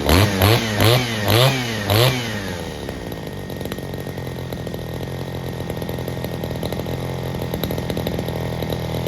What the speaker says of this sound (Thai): เร่งของเครื่องครับปกติครับไม่ต่างจากเครื่องใหม่เลยครับ